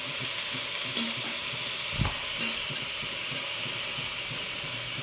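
Garden vegetables cooking in a pan give a steady, close sizzle and hiss throughout, with a few faint scrapes and knocks from stirring.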